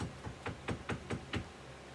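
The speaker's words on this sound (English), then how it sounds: "He knocked on the door." Someone knocks on a door in a quick run of six or seven sharp, close, evenly spaced knocks, with no voices heard.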